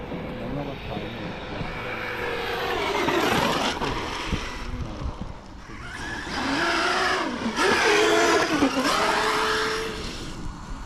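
An RC car fitted with a Sledge motor is run hard to heat it up, its high electric whine rising and falling in long revving sweeps, close and loud, with people talking over it.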